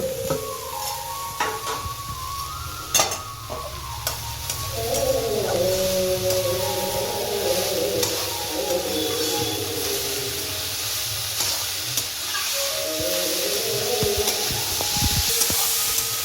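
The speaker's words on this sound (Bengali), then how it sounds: "এবার আমরা শাকটাকে খুব ভালো করে একটু ভেজে নেব।" Kolai greens (shak) with salt and chopped coriander fry and get stirred in a pan, giving a steady sizzle broken by scraping and clattering strokes of the spatula throughout, close and fairly loud with no talking.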